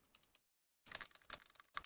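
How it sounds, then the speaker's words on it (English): Buttons on a game controller are clicked in quick irregular bursts, close and quiet, with a short silent pause between groups of clicks. "You can hear me clicking buttons, nothing working"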